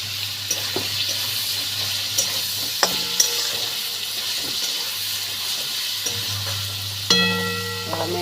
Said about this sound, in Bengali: এর ভিতরে দিয়ে দেবো 4টে কাঁচা লঙ্কা।